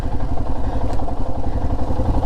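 A Royal Enfield Himalayan motorcycle is ridden, its engine a loud, steady, low throbbing rumble close up with some clatter and wind.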